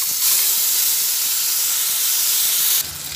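Spice paste, added after cumin seeds, sizzles in hot oil as a steady, loud broadband hiss that holds nearly unbroken, then drops away sharply near the end.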